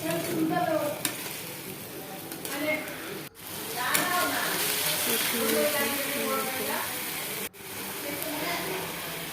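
Onions sautéing in a pan with green chilli, cumin and ginger paste, a loud continuous sizzle with scraping stirring strokes, two brief dropouts, and a voice talking over it.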